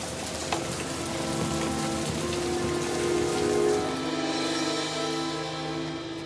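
Heavy rain pours steadily onto surfaces, a dense continuous hiss with occasional louder drops, swelling slightly midway, no voices.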